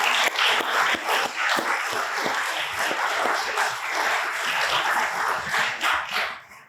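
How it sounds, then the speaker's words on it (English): A civic audience at a State of the City presentation gives a round of applause, with steady mixed clapping from many hands that lasts several seconds before fading out. "They deserve a round of applause."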